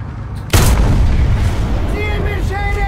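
A single loud tank cannon blast from the video game War Thunder booms suddenly and close, followed by a rumbling decay with faint tonal engine or interface sounds after.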